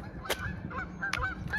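Geese honk near a disc golf island, a few short calls rising over steady outdoor background noise, fairly close and moderately loud, with no talking.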